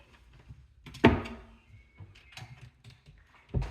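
Kitchen cupboard door opened with a sharp wooden thunk, followed by a few light knocks and another knock at the end, close and quiet.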